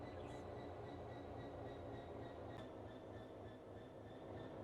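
In Train Sim World, a locomotive hauling 35 loaded HOA wagons gives a faint, continuous low rumble with steady rolling rail noise and no voices.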